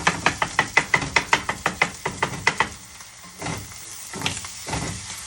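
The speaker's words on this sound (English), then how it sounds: "So this is how I make an omelet, like this, by cracking the egg right in the pan." Eggs cracked straight into a hot pan for an omelet give a quick run of close, sharp taps and knocks, then a softer sizzle and scattered clatter.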